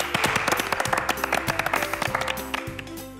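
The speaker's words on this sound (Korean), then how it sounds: "박수 한번 치고 시작하시죠" A small group clapping briefly in a studio setting, a quick run of sharp close hand claps for a few seconds.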